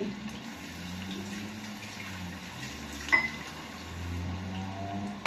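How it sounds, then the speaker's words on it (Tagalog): Water runs steadily into a pan during home cooking of fried chicken and vegetables, a soft continuous trickle with one brief clink partway through. "Lagyan ko po siya ng kalahating baso na tubig."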